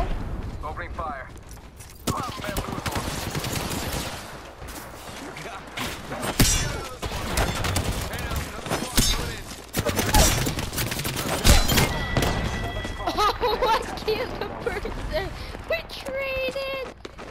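Rapid bursts of gunfire and thuds from the Apex Legends video game crackle in irregular volleys, mixed with game effects, while players talk and shout over the shooting.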